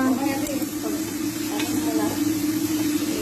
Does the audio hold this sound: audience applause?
no